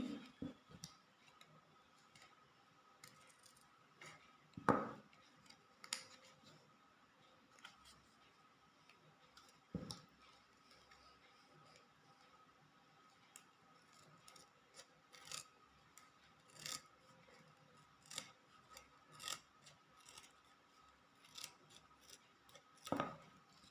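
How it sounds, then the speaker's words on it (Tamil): Scissors snip through woolen thread while a braided woolen bracelet is trimmed, giving scattered soft, quiet cuts and rubbing sounds with a few sharper clicks and no talk. "இதை இப்படி வச்சு இந்த மூடி கட் பண்ணி"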